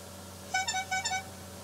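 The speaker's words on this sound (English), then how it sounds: "Sorry, Gamzee just honked." A horn honks in a short burst of about four toots over a steady background hum, loud and close, with no talking.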